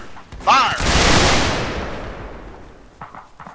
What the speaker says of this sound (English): Aim high. Higher, fire.